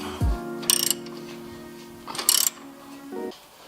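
A ratchet wrench loosens a coilover bolt on a G37, giving two short bursts of quick metallic clicks close by, with a steady low hum and some faint clunks between them.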